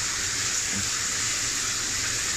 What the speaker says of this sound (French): ça coule suffisamment pour prendre une douche, ça fume et tout